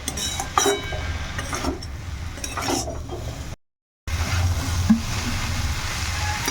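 Fried prawns stirred into greens in a pan, giving soft scraping and clinking strokes of a utensil over a low background hiss, with a short silent break midway and no talk.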